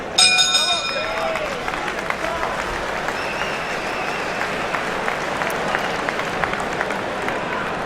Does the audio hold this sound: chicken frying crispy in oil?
no